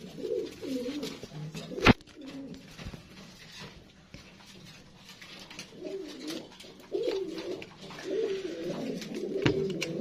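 A pair of pigeons in a clay breeding pot coo softly and repeatedly, close but faint, with a sharp clatter near the start and quiet background noise.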